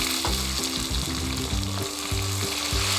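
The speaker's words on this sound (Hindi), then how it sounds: "अब इसमें टमाटर डाल देंगे" Tomatoes tipped into browned onions in a pan for daal mash, setting off a steady, loud sizzle with stirring scrapes and low thumps throughout, close and continuous with no talking.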